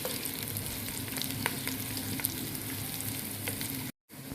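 Garlic paste and chopped garlic frying in a pot for a potato and meat stew, a steady close sizzle with faint stirring scrapes running throughout, broken by a brief silent gap near the end.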